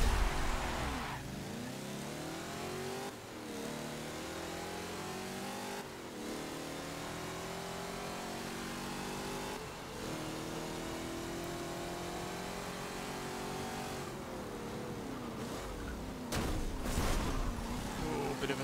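A race car engine in Forza Motorsport 7 drones loudly and continuously on a tight circuit, rising and falling in pitch through repeated revs and gear shifts, with brief dips between accelerations.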